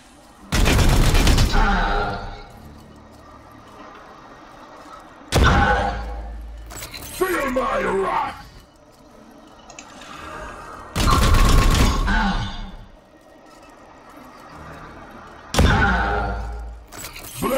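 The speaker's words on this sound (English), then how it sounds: "Let's get some support fire." Support fire bursts in the Warhammer 40k Chaos Gate Daemonhunters video game: four loud, heavy volleys of gunfire and impact crashes spaced several seconds apart, with mechanical clatter and quieter game sounds in between.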